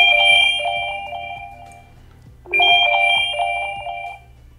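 A phone rings out in a repeating electronic chime pattern, set off from a Garmin Tactix or Fenix watch's find-my-phone function; two loud bursts of the tone play close by with a brief pause between them, no talk.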